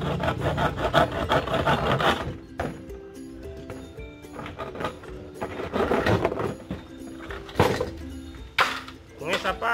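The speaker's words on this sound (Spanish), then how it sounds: "Lo que voy a hacer es cortar la cubeta ahí en esa partecita con una" A hacksaw cutting through an old plastic bucket, rasping in uneven strokes with knocks and clatter between them, close and moderately loud, while a person talks over the sawing.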